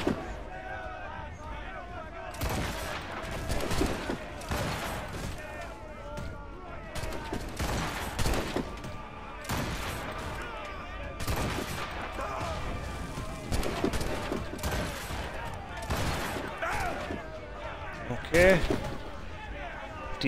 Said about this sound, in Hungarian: Lőjük, amit lőhetünk.